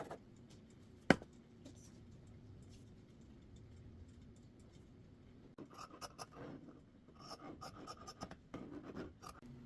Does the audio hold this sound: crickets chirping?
no